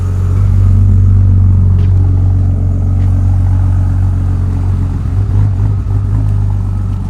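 A BMW E30 car engine, an S52, idles steadily while warming up with a low, constant rumble, close and continuous, without speech.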